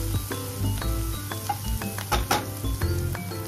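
Food sizzles in a frying pan while being stirred during breakfast cooking, with a steady hiss, light clinks of a utensil against the pan, and a faint background hum.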